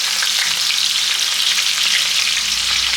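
Garlic, chilies and spring onion whites hit hot oil in a wok over high heat, giving a loud, dense, continuous sizzle with no breaks, close up.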